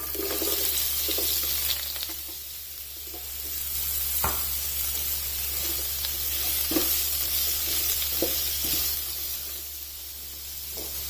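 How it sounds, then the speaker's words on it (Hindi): Sliced medium carrots sizzle in about five tablespoons of warmed oil in a pan on the flame, a continuous hiss that swells and eases, with a few sharp clinks and stirring knocks. "स्टेप के लिए फ्लेम पर पैन रखना है और उसमें ऑयल डाल देना है 5 टेबलस्पून। और इसे हल्का सा गर्म होने पर इसमें गाजरें डाल देनी है।"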